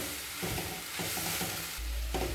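Chicken sausages frying in a pan for hot dogs, with a steady close sizzle broken by several short scraping stirs of a spoon against the pan, no voices.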